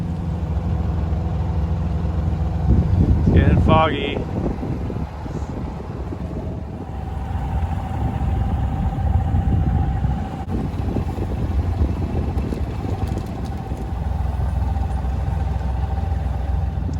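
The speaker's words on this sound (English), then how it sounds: "I'm just trying to minimize the time I run the motor." Sailboat outboard motor running steadily at low rumble on the water in fog, a continuous engine drone mixed with wind buffeting the microphone, with a brief spoken remark near the start.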